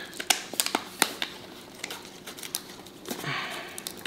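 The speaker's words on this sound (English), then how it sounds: "I'm just gonna quickly grab scissors because I'm just gonna cut it out of that." A houseplant is cut free from its plastic pot with scissors: a series of sharp snips and crinkling crunches of plastic, close up, irregular, with rustling handling between cuts and no talk.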